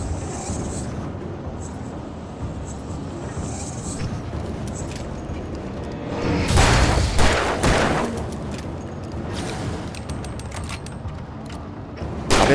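Bursts of gunfire in the video game Alan Wake Remastered crackle through a steady noisy game soundscape, with a louder cluster of shots in the middle and scattered sharp pops afterward.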